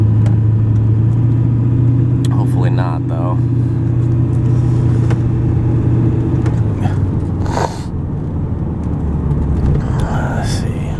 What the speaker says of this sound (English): This truck accelerates really good.